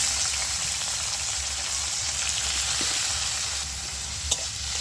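Bitter gourd coated in salt and turmeric frying in white oil, a steady close sizzle with a few faint stirring scrapes and one sharp utensil tap near the end, no talk.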